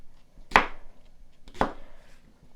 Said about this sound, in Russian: Можно обычным ножом нарезать, можно полосочками